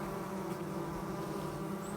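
Bees buzz at the entrance of a log hive, a dense, continuous droning hum of many insects heard close up, steady and unbroken with no voices.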